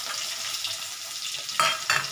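Garlic hits hot oil in a pan while bhindi masala is being cooked, giving a steady close sizzle and frying hiss, with two brief louder crackling bursts near the end.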